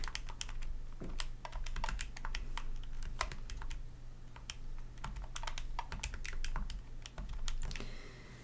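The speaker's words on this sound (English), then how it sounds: "I'm going to type that in my calculator" Keys clatter on a calculator keypad as numbers are punched in, a quick irregular series of sharp clicks over a low steady hum.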